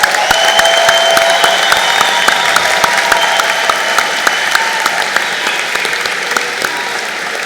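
A commencement crowd gives a round of applause for engineering technology graduates, a loud, continuous clapping with sharp individual claps standing out close by.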